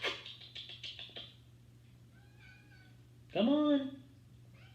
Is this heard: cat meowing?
yes